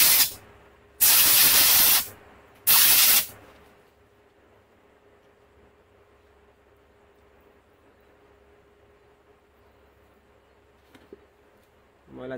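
Two sharp bursts of spray cleaner hiss loudly against the jammed fuel pump filter of a TVS Raider motorcycle, each lasting about a second, followed by a long quiet stretch with a low hum and a small clink near the end.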